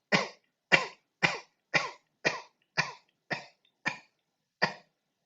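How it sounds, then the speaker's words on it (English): Nine sharp coughs from one person, close and loud, spaced in a steady rhythm about half a second apart, with no talking. "So just cough out."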